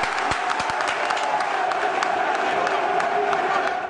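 At a football stadium during a Racing Club versus Independiente match, the crowd applauds and cheers in a broad, sustained roar, with a few sharp claps and shouts standing out near the start.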